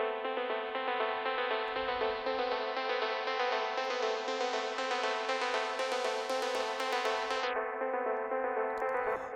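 Afro tech plug synth with an automated EQ, a steady sustained chord whose bright highs open gradually over several seconds, then drop away abruptly near the end; clean and alone.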